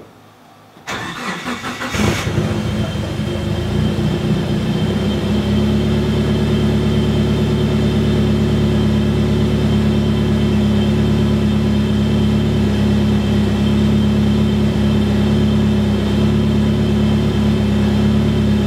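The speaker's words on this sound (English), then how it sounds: "Let me start the car and see if it changes." A Lexus car engine cranks over and catches after a couple of seconds on a dyno, then settles into a steady, loud, close idle hum that runs unchanged to the end.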